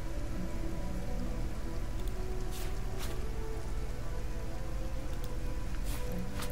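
Rain falling in the video game Divinity: Original Sin, a steady, even patter with no talk.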